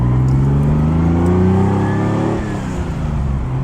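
A Ferrari Dino engine revs loudly up through the gears without throttle blips, rising pitch then a clear drop at a shift midway before climbing again, close and alone.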